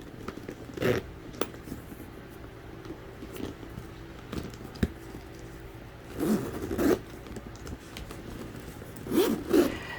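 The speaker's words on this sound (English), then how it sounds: "The Louis Vuitton zipper is just as smooth as the zip from Dooney Bourke" Zippers on a Louis Vuitton bag and a Dooney & Bourke bag, leather and canvas with dual zippers, are pulled open and shut in a few short, smooth rasping zips spread across a quiet stretch, close and soft.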